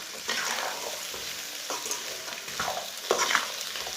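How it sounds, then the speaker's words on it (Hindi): Mixed vegetables are stir-fried in a pan and stirred with a spoon, giving a sizzle under repeated scraping strokes that arrive at uneven intervals, close and moderately loud, with no talk. "सब्जियों को मिक्स करके इसे 3-4 मिनट के लिए भून लेना है।"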